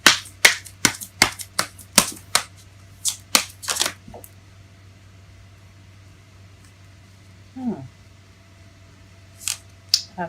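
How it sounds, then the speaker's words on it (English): Tarot cards being shuffled by hand in a quiet room, a quick series of crisp riffling slaps and snaps in the first few seconds, then a soft slide later and a couple of faint flicks near the end. "It fell face up as I was shuffling"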